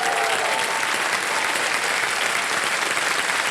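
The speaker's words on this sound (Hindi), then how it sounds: "तालियां बज जाएं इनके लिए" Studio audience applause on the KBC quiz show after a contestant's correct answer, a loud, even sheet of clapping from a large crowd sustained from start to finish.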